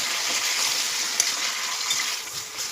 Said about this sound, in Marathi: कांदा परतल्यावर ह्याच्यामध्ये मॅरिनेट केलेलं मटण चांगलं तेलामध्ये परतून घेत आहे